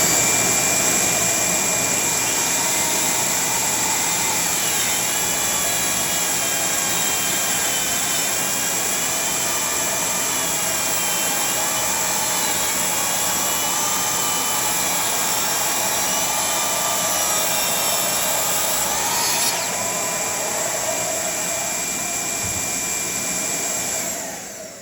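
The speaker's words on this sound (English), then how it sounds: "I like the track saw because of the dust collection" A track saw runs with a dust collector attached, giving a loud, steady whining roar that holds for over twenty seconds before cutting off at the end, with no voices.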